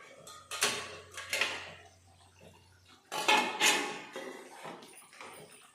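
A lid and pot of cooked brinjal curry handled on the stove, quiet clinks and scrapes of metal in two clusters, close and fairly soft.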